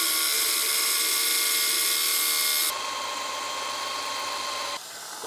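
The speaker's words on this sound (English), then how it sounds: "we're cutting up some threaded rods to act as cheap bolts" A power tool cuts through threaded rods being made into cheap bolts for a heavy-lift drone's motor mount, giving a steady, loud, high-pitched whine that runs without pause and drops a little in pitch and level partway through.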